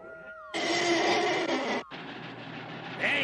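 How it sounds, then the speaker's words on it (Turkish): A loud cartoon train rumbles in with a sustained roar and grinding hiss, a brief drop, then continues rolling past with squealing tones near the end. "işte tren geliyor"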